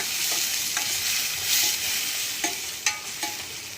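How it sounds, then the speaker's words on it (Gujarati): Fenugreek and papad curry stirred in a hot pan, a steady oil sizzle broken by a few scraping spoon strokes near the end, close and fairly loud with no talk. "આ રીતે હલાવી લેવા"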